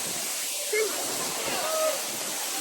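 The forceful spray of Namaste Jharna waterfall hisses as a dense, close wash of water noise, steady throughout, while a voice speaks briefly over it.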